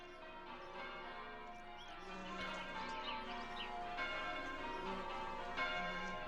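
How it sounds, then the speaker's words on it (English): Bells ring at the start of a song, a faint, distant, reverberant tolling that stays soft and steady throughout. "The bells."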